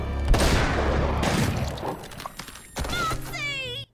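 Gunfire and impacts in the animated show Helluva Boss, with a loud booming shot and clattering hits up front, then squeaky cartoon-like effects near the end.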